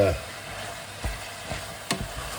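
A chilli mixture with an oxo cube sizzles in a pan, a steady close hiss broken by a few sharp stirring knocks from a spoon.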